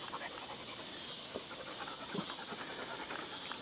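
A dog named Lexi panting at rest indoors, a soft, fast, continuous breathy rhythm heard faintly and close by against a steady background hiss, with no talking over it.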